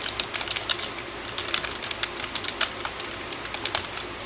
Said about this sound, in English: that is made from a steel cable, a bird chirping, the stock sound effect arrow whistle